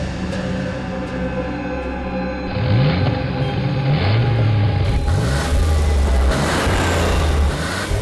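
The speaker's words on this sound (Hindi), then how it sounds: "ये गाड़ी हमारी तरफ क्यों घूम गई है?" A car engine revs as the car swings around toward the onlookers, a loud rising and falling roar over steady traffic-like rumble, with no voices.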